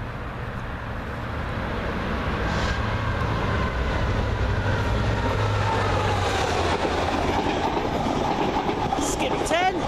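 A Chiltern Railways loco-hauled silver service train led by a Class 67 locomotive passes close by, a long sustained rumble with rhythmic clickety-clack of wheels over rail joints building and holding, with a voice talking over it.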